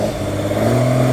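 A classic British car's engine idles steadily at a car show after restarting from a stall, a continuous mid-pitched running hum with a slight rise in revs toward the end, loud and close.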